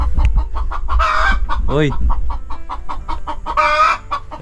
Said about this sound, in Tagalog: putak na yan guys.